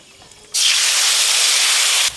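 Homemade mango kasundi, thinned with water, hits hot oil and gives a loud, close hissing sizzle that lasts about a second and a half before stopping abruptly.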